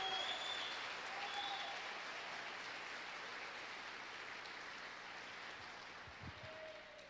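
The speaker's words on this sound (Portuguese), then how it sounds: "pode aplaudir o Senhor." A church congregation at a Sunday worship service applauds, a steady dense wash of clapping that holds for several seconds and slowly eases, with a little murmuring beneath.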